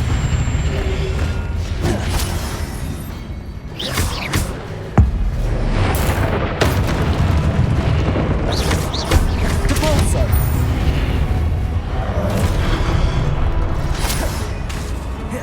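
Depulso force spell cast in Hogwarts Legacy during a mirror puzzle trial, a series of whooshing, thumping magical blasts amid continuous game clatter and effects, repeated several times over dense background sound.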